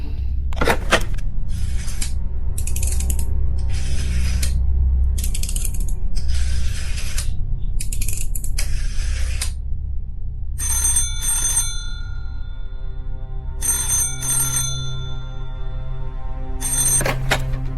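Telephone being dialed in a radio drama, a run of mechanical rotary-dial whirs and clicks in repeated bursts over a steady low hum, followed by ringing tones on the line, with no voices.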